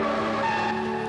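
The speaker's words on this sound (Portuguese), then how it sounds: "Nunca estive tão perto de um carro de corrida." Race car tires skidding and squealing, a loud sustained screech with engine tone underneath, close and continuous through the brief moment.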